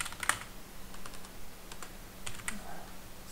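Fingers type on a computer keyboard at a desk, producing a quick run of light, close clicks in short bursts with small pauses, against a quiet room with no speech.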